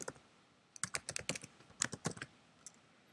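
Quick bursts of close computer keyboard typing, a rapid run of crisp key clicks with a short pause midway and a lone final tap.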